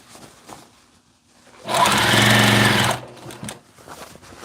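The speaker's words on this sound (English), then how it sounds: "Сейчас я буду делать строчку." A sewing machine hems a pair of trousers to shorten them, running in a loud, even burst for just over a second, with quiet handling sounds before and after.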